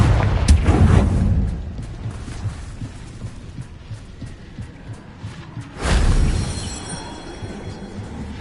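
Blasting spell explosions in Hogwarts Legacy, a deep booming burst near the start and another loud boom around two-thirds through, with low rumbling in between.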